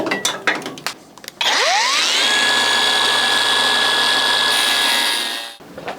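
A power tool cuts away a piece of metal on a Żuk: a few clattering handling knocks, then the motor spins up to a loud steady high whine for about four seconds before winding down.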